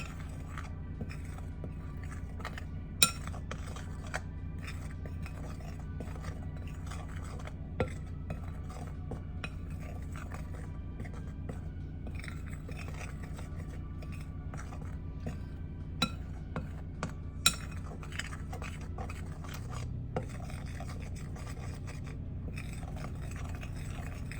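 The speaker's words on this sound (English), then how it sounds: "We're gonna stir this up a little bit." Cake batter is stirred in a bowl with a utensil, giving soft, continuous scraping close by, with occasional sharp clinks against the bowl and no talking.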